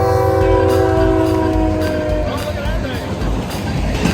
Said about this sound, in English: You can hear the oncoming train coming, just booming.